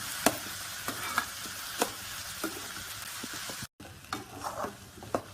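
Vegetable cutlet mixture being mixed in a bowl, with soft, rhythmic stirring and regular light taps, close and fairly quiet, with a short cut near the end.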